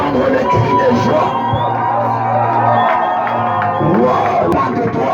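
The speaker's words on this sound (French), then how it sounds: "est-ce que tu peux pousser les cris de joie? J'ai besoin d'entendre les cris de joie." A crowd at a live event cheering and shouting with joy, loud sustained whoops and yells from many voices blending into a dense roar, close and continuous for several seconds.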